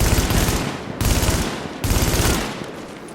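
Rapid rifle gunfire in The Division, in the WarrenGate Power Plant mission on Hard mode, comes in three loud, dense bursts about a second apart, each dying away briefly before the next.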